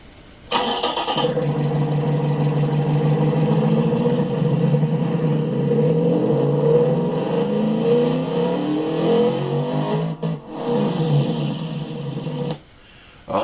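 A 4.6 V8 engine with straight-through pipes in a 2005 Ford Mustang GT in the game Automation starts with a burst, then revs and drones loudly and steadily for several seconds before cutting off abruptly, with a synthetic quality.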